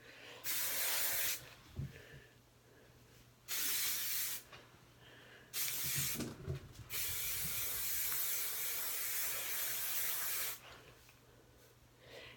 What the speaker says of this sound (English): it's nice to have hairspray in it when it's drying